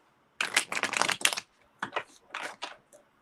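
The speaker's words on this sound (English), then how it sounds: "I'm shuffling and pulling." A deck of reading cards being shuffled by hand, two or three crisp riffling bursts of paper flicking close by with short pauses between them, no voices.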